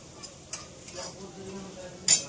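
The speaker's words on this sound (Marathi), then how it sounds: "मिरच्याचा ठेसा भाजून घ्यायला लागले बघा" Green and ripe chillies for thecha roasting in a pan: soft sizzling with a spatula stirring and scraping the metal, plus a sharper clink near the end, close by.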